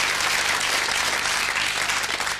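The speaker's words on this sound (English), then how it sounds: "big round of applause for Jeremy!" A studio audience breaks into dense, steady applause on a quiz-style game show after a contestant finishes a round. The clapping is loud and continuous throughout.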